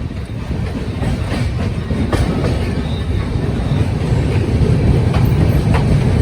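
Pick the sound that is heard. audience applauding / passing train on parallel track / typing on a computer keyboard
passing train on parallel track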